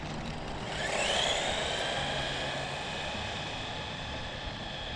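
A Su Chi Yu 16102 Conquer 1:16 RC truck with a brushed electric motor runs at full throttle, its high whine rising after a second and then holding steady under a constant hiss.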